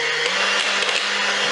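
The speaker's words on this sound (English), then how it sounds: "Cream is quite well whisked, yeah? So we've just got to get that a little bit stiffer." An electric mixer whirs steadily and loudly while whisking cream to stiffer peaks, a continuous close buzzing with no talk.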